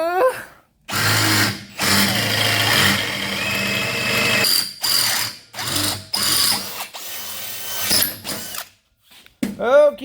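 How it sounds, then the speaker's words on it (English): A power drill bores a hole through a metal plate in a workshop, whirring loud and near in several long runs broken by short pauses, with the pitch dipping as the bit bites. "I got to finish drilling this hole real quick"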